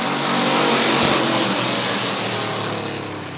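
A field of Roadrunner-class race cars roars past together at the start of a heat at Rockford Speedway, a dense, loud engine drone that fades slightly as the pack moves away.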